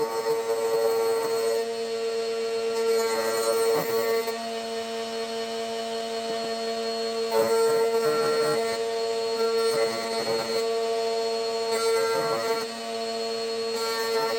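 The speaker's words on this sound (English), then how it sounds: "I did want to use and show off my fancy new router table that I built last week. So I used it to shape the bottom." A router table shapes the bottom of a wooden candle holder, producing a steady high-pitched whine with a few brief cutting surges as the wood is worked, close and unaccompanied by talk.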